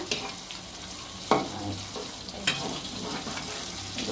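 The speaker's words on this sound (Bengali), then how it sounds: "এইগুলা ভাজা শেষ প্রায়" Koi fish frying in a pan, a steady close sizzle broken by two sharp clinks or scrapes of a utensil, with no one talking.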